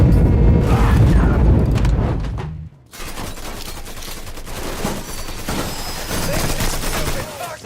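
Heavy gunfire in the video game Mafia 3: Definitive Edition, a loud barrage of rapid shots and booms that cuts out briefly, then resumes as continuing bursts of fire over game noise.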